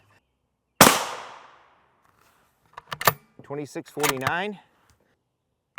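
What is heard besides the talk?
rifle shots firing Winchester surplus M80 ball rounds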